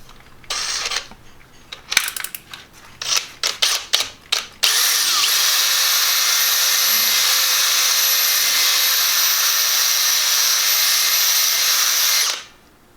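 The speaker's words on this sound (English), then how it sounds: "So I'm just going to use a drill here." A power drill whirs steadily for several seconds, loud and close, during a fishing boat refit while pressing in a new cutlass bearing, after a run of short clicks and bursts, then cuts off.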